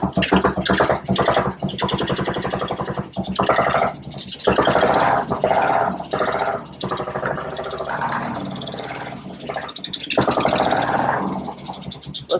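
Vintage 1975 Moto Guzzi cafe racer engine cranking and catching in loud, uneven bursts, rough and raspy with brief drops between attempts, close to the machine.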